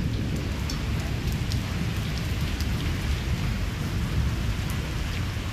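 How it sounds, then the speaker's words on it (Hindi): Heavy rain pours steadily from dark overcast clouds in Islamabad, a dense continuous hiss close by with low thunder rumbling underneath throughout. "बादल गरज रहे हैं, कड़क भी रहे हैं"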